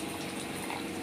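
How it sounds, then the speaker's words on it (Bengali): Hot water pours into a spice mix for a fish curry in a short, steady, close gush of liquid lasting about a second, with no voices. "গরম জল দিলাম"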